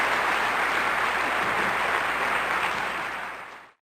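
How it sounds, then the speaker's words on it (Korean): Applause breaks out among a crowd at a party, a dense, steady wash of clapping that runs a few seconds before cutting off abruptly. "마침내 여기저기서 박수갈채가 터져나왔답니다."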